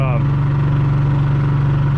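A Honda EU3000is inverter generator running in eco throttle powers a travel trailer and its air conditioner, giving a loud, close, steady engine hum that rises briefly at the start.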